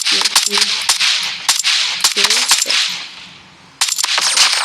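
A legendary gun fires rapid, loud, sharp cracks in a video game, in several quick bursts, with game effects between them and a brief lull before a final burst.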